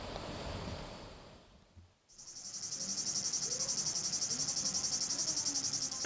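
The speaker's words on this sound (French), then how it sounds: "le chant entêtant des cigales" Cicadas sing in summer heat on the hills above Tizi Ouzou, a loud, steady pulsing drone that cuts in after a brief quiet and then holds close and continuous.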